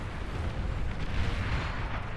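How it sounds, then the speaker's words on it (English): Artillery explosions in the real-time strategy game Beyond All Reason, a dense continuous low rumble of overlapping blasts and bursts with no single clear boom, steady and moderately loud throughout. "Another explosion."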